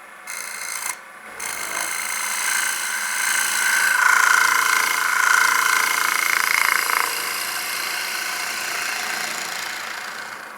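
A quarter gouge takes light, gentle cuts in a timber bowl spinning on a wood lathe, giving a steady broadband rasping hiss that swells in the middle and holds, with no voices.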